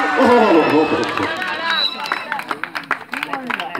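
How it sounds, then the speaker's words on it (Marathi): Crowd applause and cheering at a tournament final swell under a loud, excited commentator's voice, with scattered claps standing out as the noise thins toward the end. "जोरदार टाळ्या मित्रांनो"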